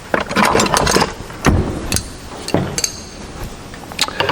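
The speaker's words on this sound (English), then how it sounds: "We're just going to grab a wrench," A wrench turns a fitting on a food-grade water barrel set up for temporary irrigation, giving loud close metallic clinks, ratcheting scrapes and knocks in quick irregular bursts.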